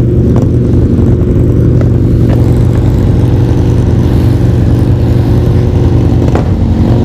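Ducati motorcycles, an Evo 848, a Panigale Tricolor and a Diavel, rumble together at a Sunday morning group ride in Indonesia, a loud steady engine drone with occasional sharp transients and no talk.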